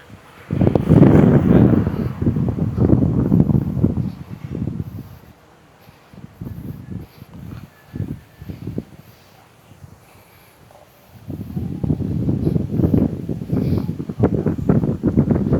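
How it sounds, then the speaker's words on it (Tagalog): Strong gusts of wind buffet the microphone in loud roaring bursts at an outdoor biking and jogging area in Meycauayan, easing briefly in the middle before surging again. "lakas ng hangin dito"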